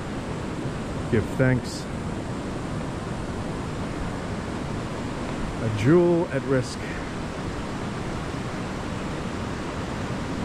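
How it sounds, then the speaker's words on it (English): Ocean surf at Uvita, Costa Rica, makes a steady broadband wash that fills the whole stretch, with a couple of short spoken phrases over it. "I'm gonna enjoy the sound of the ocean."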